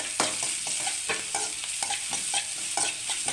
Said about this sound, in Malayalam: കറിവേപ്പിലയും ഇട്ട് ഒന്ന് മൂത്ത് വരട്ടെ